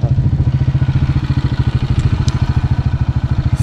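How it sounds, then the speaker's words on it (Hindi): Motorcycle engine idling close by at a village fair, a steady rapid low thumping pulse with faint clatter and no talk. "ऐसा साहब पार्किंग करने आए हैं मोटरसाइकिल की यहाँ पे"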